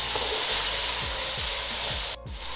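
Chicken and vegetables sizzling and being tossed in a hot pan, a steady loud hiss with low rhythmic thumps from the mixing, and no talking.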